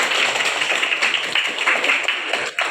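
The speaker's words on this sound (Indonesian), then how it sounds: "beri aplaus untuk teman kita" Applause for a fellow participant during a group session in a classroom, a dense steady patter of many hands clapping at moderate loudness for the whole stretch, with no talk over it.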